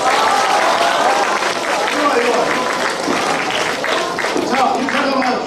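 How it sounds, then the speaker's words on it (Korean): Audience applause from students at an alumni guest lecture and scholarship ceremony at a middle school, a dense, steady wall of clapping that carries at full strength for the whole stretch, with faint voices mixed into the crowd. "박수!"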